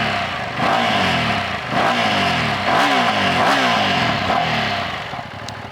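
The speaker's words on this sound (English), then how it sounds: "Now, like all Ducatis, it starts in a way that you feel like the starter motor is about to give up, but then the engine bursts into life" A Ducati Multistrada V2 S motorcycle's engine catches and runs loud and close, rising and falling through several sharp throttle blips with a rough, clattery mechanical edge.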